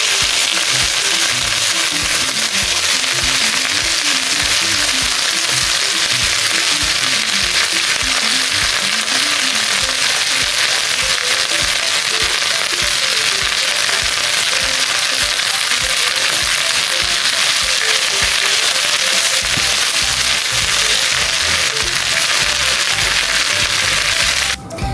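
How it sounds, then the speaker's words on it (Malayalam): Drumstick leaves fry in hot oil after mustard seeds have popped, giving a loud, dense, unbroken sizzle and crackle that runs steadily close up the whole time. "കടുക് പൊട്ടിയിട്ട് നമുക്ക് നമ്മുടെ ഇല ഇട്ടു."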